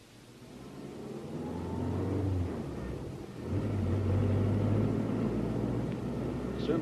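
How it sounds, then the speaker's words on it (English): A car drives in a radio drama, its engine rumbling and swelling as it pulls away and picks up speed, then holding a steady low drone with no speech. "The car's over here."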